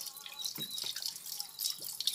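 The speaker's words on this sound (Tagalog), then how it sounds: "So maghilamos ta guys kay para mabasa tong face." Water drips and splashes softly in a sink during face washing, a few quiet droplets and light trickles over a faint running-water hiss, close and low in level.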